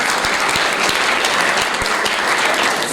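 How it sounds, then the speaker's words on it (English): An audience at a political parties dialogue claps steadily, a dense wash of applause from many hands, loud and sustained throughout. "can we give all the political parties a big round of applause?"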